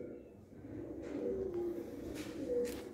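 Pigeons kept by fanciers in Ludhiana coo softly in low, murmuring calls, faint and somewhat distant over a hazy background hum, with a few brief brighter rustles.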